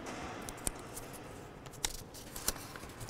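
Scissors snipping paper to cut out a small ox shape for Chinese paper cutting, a few sharp isolated snips spaced apart, close and crisp against a quiet background.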